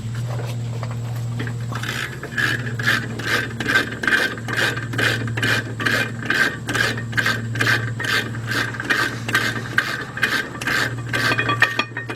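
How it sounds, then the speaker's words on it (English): Steady ratchet clicks from an 18mm shallow socket on a 3/8 drive loosening the two rear brake caliper bracket bolts on a 2001 Jeep Grand Cherokee Laredo, a rapid close-up ticking that starts after two seconds over a constant low hum. "18mm shallow socket, 3/8 drive, and get the 2 bolts."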